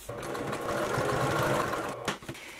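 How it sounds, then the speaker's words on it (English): A sewing machine stitches the bottom seam of a fabric bag with a half-inch seam allowance, running at a close steady rapid whir that halts briefly near the end. "sew just the bottom together"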